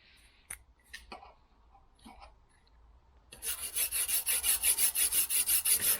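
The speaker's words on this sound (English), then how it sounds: "And I'm going to cut this piece out" Metal being cut away for a car patch panel with compound curves, starting with a few separate scrapes and taps, then a loud rapid rhythmic rasping cut of about a dozen strokes.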